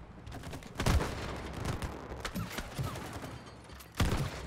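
Gunfire in the co-op video game It Takes Two, shooting clips off: scattered muffled shots and thumps, with two louder bursts near the start and end, over a steady game-audio bed and no talk.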